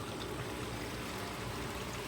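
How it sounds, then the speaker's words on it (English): Liquid is poured into a Cummins ISX-15 engine in a Kenworth truck, a faint, continuous trickling wash heard up close. "She's doing the pouring."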